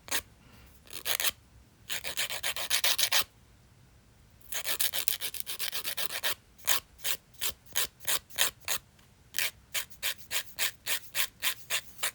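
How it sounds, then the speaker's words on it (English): A fingernail is filed during nail sticker removal: long close rasping passes come first, then a steady train of short, quick file strokes, loud and alone. "I am kind of filing a little bit of my nail"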